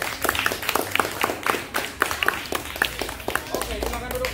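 Children in a primary school gymnastics class clap in a loose, uneven patter of individual claps while a voice talks over them.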